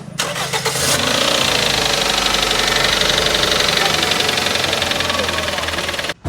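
Toyota GLi car engine cranking to a start, then running steadily loud and close with a rough knocking rattle through the revving, cutting off abruptly near the end.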